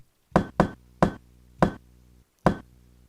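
Toilet paper sounds sampled on a PO-33 KO sampler form a sparse kick and snare drum beat, five short, punchy thumps in an uneven rhythm with silence between them.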